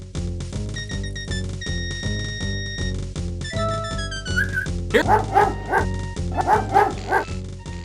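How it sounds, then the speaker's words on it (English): A mangy old dog in the King's Quest V game yips and barks playfully while digging at a large anthill, in quick bursts over steady game music. "A bully of a dog terrorizes the poor ants as he playfully digs at their large anthill."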